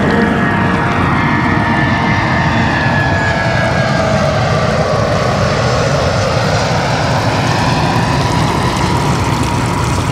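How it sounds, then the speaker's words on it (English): A plane passing overhead above the Potomac River on the Virginia side near Washington, D.C., a loud, continuous engine roar that slowly shifts in pitch and fills the whole stretch, with no talking. "I'm gonna take a quick pause because this plane is flying over my head."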